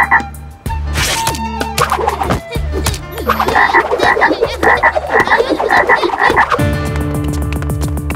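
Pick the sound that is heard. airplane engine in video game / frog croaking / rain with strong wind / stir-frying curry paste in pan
frog croaking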